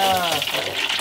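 Shrimp fritters frying in hot oil make a steady, bright sizzle, close and fairly loud, running through the whole moment with a faint voice underneath.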